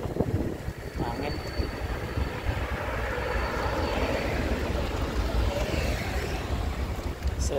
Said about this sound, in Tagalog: So windy now.